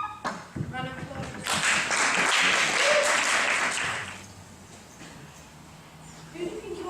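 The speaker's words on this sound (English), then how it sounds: "Round of applause." After a brief voice, an audience at a puppet show breaks into applause. The dense wash of clapping swells, holds for about three seconds, then fades into quieter room sound.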